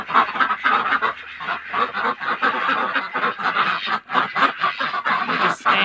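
Mixed breed ducks honk and quack loudly and constantly in their night pen in the early morning, a dense, overlapping chorus of nasal calls that continues throughout.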